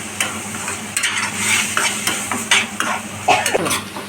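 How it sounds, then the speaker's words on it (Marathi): Chopped tomatoes get stirred into onions frying golden-red in a pan, a spoon scraping in repeated strokes over a steady sizzle, close and fairly loud, with no voices. "त्यानंतर टमाटर टाकायचं, जरा फिरवायचं असं."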